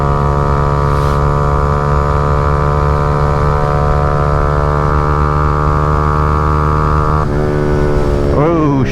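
A small motorcycle cruises in fourth gear near 60, its engine a loud, steady droning buzz with strong wind rush, holding pitch before shifting and wavering near the end.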